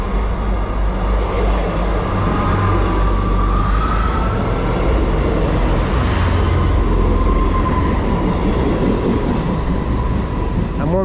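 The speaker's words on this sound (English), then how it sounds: "Passing through, we have an East Midlands Railway service to begin the day, and it is a 158." An East Midlands Railway Class 158 diesel unit passing through a station, a loud close rumble with rolling wheel noise and faint squeals and tones, steady and heavy from start to finish.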